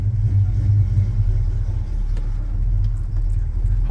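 A 1984 Chevy C10 pickup idles as its engine warms up, a steady, close low rumble with slight unevenness throughout and no voices.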